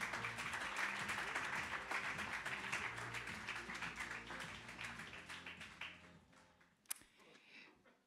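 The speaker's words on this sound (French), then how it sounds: "On l'applaudit." A corporate evening audience applauds an opening speaker, crowded clapping that fades gradually toward the end, with one sharp click standing out and faint voices underneath.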